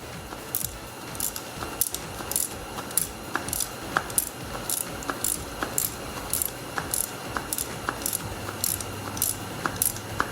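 A ratchet clicks in quick, steady strokes while loosening the rear strut nut on a Dodge Journey during a spring replacement, producing a regular series of sharp metallic ticks.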